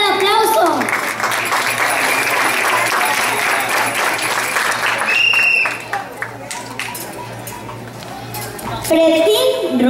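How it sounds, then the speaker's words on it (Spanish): Loud applause from the audience at a children's beauty pageant rolls on for several seconds, then thins out while an announcer's voice and crowd murmurs come through over the remaining clapping. "Fuerte el aplauso."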